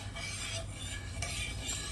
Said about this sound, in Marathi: दूध कंटिन्यू हलवत असताना